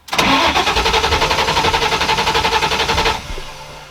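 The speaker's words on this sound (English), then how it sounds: "I'm gonna build pressure by cranking it for a few seconds" Mustang engine cranked by the starter to build oil pressure: a loud, close, rhythmic whirring crank lasting about three seconds without firing, then winding down, with no talking.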